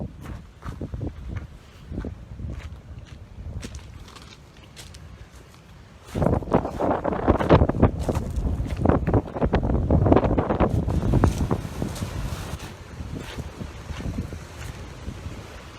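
Gusty wind at a beach in Valencia buffets the microphone outdoors, rumbling low and irregular, growing much stronger halfway through with rough blasts.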